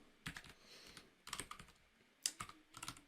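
Code typed on a computer keyboard in the NSO Developer Studio VS Code extension, with quiet irregular clusters of close key clicks and brief pauses between flurries, no voice.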